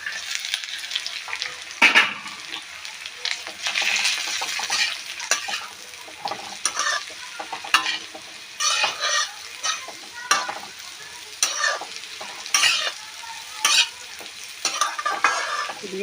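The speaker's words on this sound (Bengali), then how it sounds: "আলুগুলো ভাজা করে রেখেছিলাম একসাথে দিয়ে দেব।" Beetroot and potato fry in a pan, stirred with repeated scraping strokes over a steady close sizzle; no voices.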